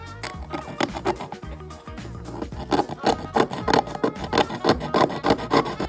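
Small plastic parts from a 1:144 Revell model boat kit are sanded down, giving quick rhythmic rasping strokes, close and fairly loud, alone without talk.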